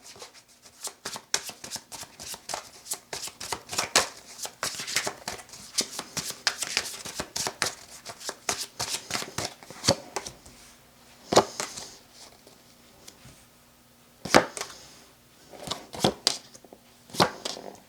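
Tarot cards being shuffled by hand, a rapid run of crisp riffling and flicking bursts with brief pauses between, close and moderately loud, with no talking.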